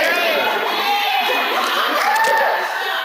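A large indoor audience at a church service yells their names all at once, producing a dense, continuous roar of overlapping shouting voices, loud and sustained with no distinct words.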